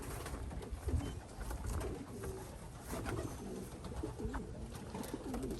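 Racing pigeons returning to the loft after a race coo softly and repeatedly, with low, rolling calls close by over a quiet background.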